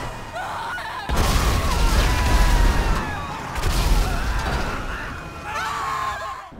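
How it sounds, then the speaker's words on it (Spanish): Cars colliding and a big explosion in a video game benchmarked in 4K, heard as loud, dense rumbling bursts and crashes that swell twice with clanking debris, continuous throughout. "Vemos muchos objetos interactuando, autos chocando, finalizando todo con una gran explosión."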